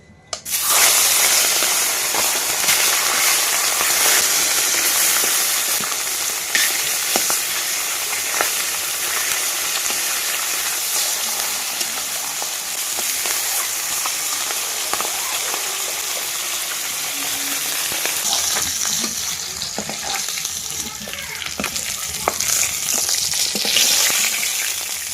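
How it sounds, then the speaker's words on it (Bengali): Pieces of fish from a home pond frying in hot oil in a village kitchen in the Sundarbans, a steady, loud, continuous sizzle with occasional spatters and stirring, lasting throughout with no talk. "একে একে সব মাছগুলো ভেজে নেব।"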